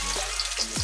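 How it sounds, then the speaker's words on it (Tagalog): Garlic and onion sizzle in hot oil in a small home kitchen, a steady close frying hiss lasting under a second with light stirring scrapes and no voices. "Lagyan natin ang bawang sibuyas."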